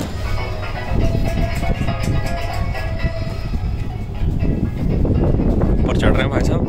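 A cable car climbs toward Cat Ba station over Ha Long harbour with a steady mechanical rumble and rattle and a brief whine near the end, while people talk throughout.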